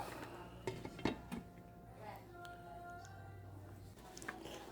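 A lid being set onto a pot of sardines cooking with asparagus, heard as a few close metallic clanks and clinks near the start, followed by a quieter simmering background.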